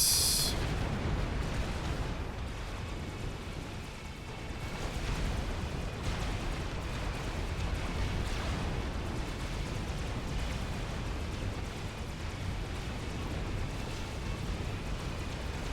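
Artillery shells exploding in the real-time strategy game Supreme Commander: Forged Alliance, a dense, continuous rumble of booms and blasts that runs steadily for the whole stretch, loud and unbroken.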